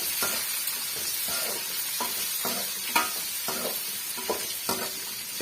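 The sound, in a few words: sautéing chopped onion in pan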